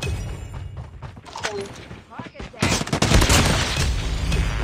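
Gunfire in the COD Mobile video game, bursts of rapid shots that turn into a dense sustained barrage of automatic fire in the second half, loud and close, with a voice talking over it.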